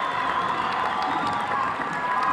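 Sustained crowd cheering and shouting echo through a gym after a girls' high school basketball playoff game, a continuous dense roar with scattered claps and whoops rising above it.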